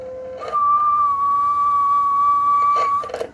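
A single steady whistled tone holds for nearly three seconds, loud and close, slightly thin as it comes through a Yaesu FT-757GX II ham radio.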